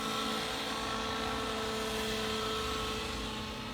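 A 90-size nitro RC helicopter runs steadily overhead, its engine and rotor drone holding constant at moderate loudness for the whole stretch with no voices.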